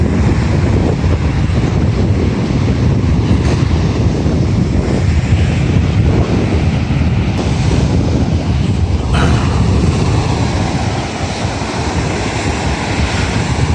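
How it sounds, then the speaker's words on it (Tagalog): Strong ocean waves and wind at a beach resort in Nasugbu, Batangas, in the late afternoon: a loud, constant roar of surf and gusting wind buffeting the microphone, with no talk. "So ayan, lakas ng hangin, lakas ng alon."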